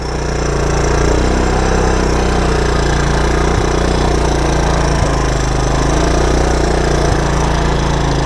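A 1984 Honda ATC 200ES three-wheeler runs in low gear with the choke on, its single-cylinder engine chugging in a steady, loud, close knocking rhythm with no throttle changes.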